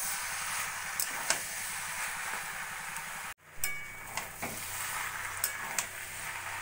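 Pre-fried lentil dumplings (bori) are stirred into a sizzling turnip curry in a pan, a steady frying hiss broken by scraping spoon strokes and a brief pause midway.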